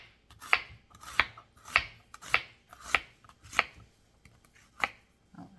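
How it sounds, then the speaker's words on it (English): A knife dices a large red onion on a cutting board, about eight crisp, evenly spaced chops, close and clear with nothing else heard. "we're going to use this entire large red onion. And I'm going to end up just dicing it up"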